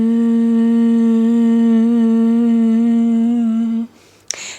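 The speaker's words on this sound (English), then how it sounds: "we're going to take an exhale through the mouth and hum." A person doing Bhramari humming bee breath exhales through the mouth with a loud, steady, closely miked hum that holds one pitch for nearly four seconds, then stops, followed by a brief click.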